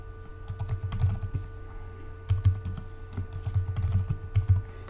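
Computer keyboard being typed on while a new password is entered, with irregular bursts of close, clicky keystrokes and brief pauses, over a steady low hum and no talking.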